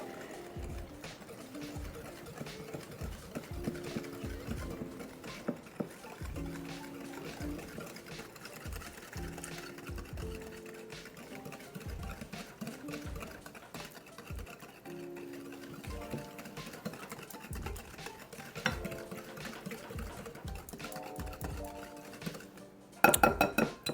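Sugar and butter are mixed by hand in a bowl, with repeated soft scraping and clinking of a utensil against the bowl in an irregular rhythm, faint and close.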